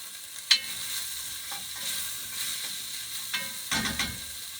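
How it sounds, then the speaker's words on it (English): Onions soften in a pan with a soft, steady sizzle, punctuated by a few sharp utensil taps and stirring scrapes, close but fairly quiet and without speech. "While the onions are cooking down, I'm just going to add some salt to them."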